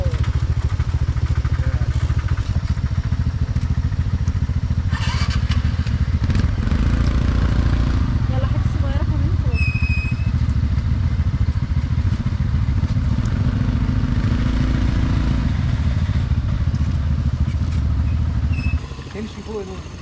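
A scooter engine drones steadily while riding a muddy, flooded road near Ella, Sri Lanka, with constant rattle and splash from the road and voices talking over it.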